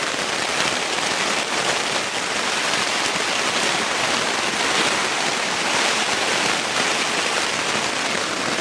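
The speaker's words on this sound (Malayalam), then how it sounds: "ഈ ഷെഡിൻ്റെ അപ്രതീക്ഷിതമായിട്ട് പെയ്ത മഴയാണ്" Heavy rain pours steadily onto a shed roof, a dense, loud, unbroken hiss of drops drumming on the surface.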